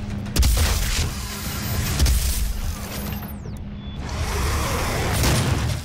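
Siege cannon shots in the video game Doom: a heavy boom followed by rumbling blasts and mechanical whooshes, loud and close, layered with game effects.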